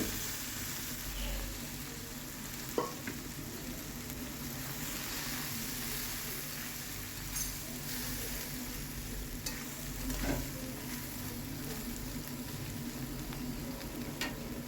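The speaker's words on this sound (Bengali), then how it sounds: "ছোলার ডাল আলু সেদ্ধ করা ছিল তো সেটা আমি দিয়ে দিয়েছি দিয়ে ভালো করে নেড়ে নেব" Boiled potato and chana dal stir-fried with whole spices such as cardamom, cloves and cinnamon, a continuous close sizzle with occasional scraping stirs throughout, no speech over it.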